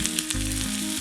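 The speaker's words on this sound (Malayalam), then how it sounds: "എണ്ണ ചൂടായി കഴിയുമ്പോൾ 1/4 ടീസ്പൂൺ കടുക്, 1/4 ടീസ്പൂൺ ഉലുവ." Mustard seeds, fenugreek, chopped onion and ginger sizzle in hot oil for a curd fish curry, a loud, steady close crackling hiss with faint stirring.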